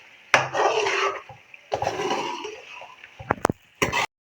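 Spoon or spatula scraping and stirring Iranian karahi with green coriander in a cooking pan, two long rubbing strokes followed by a few sharp clinks and knocks against the metal, close and fairly loud.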